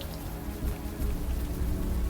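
Steady rain from the video game Unavowed falls as a dense, continuous hiss with a low rumbling bed, holding even and unbroken throughout with no voices.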